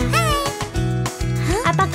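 A sung children's song in Indonesian with a voice imitating a cat's meow, a short rising-falling cry over a steady musical backing of bass and keys.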